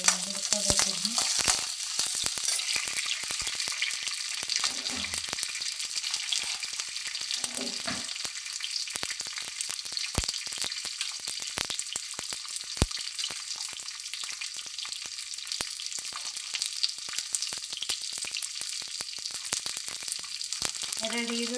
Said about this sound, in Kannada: ಹಸಿರುಮೆಣಸಿನ್ಕಾಯಿ, ಸ್ವಲ್ಪ ಚೆನ್ನಾಗಿ ಹುರ್ಕೋಬೇಕು.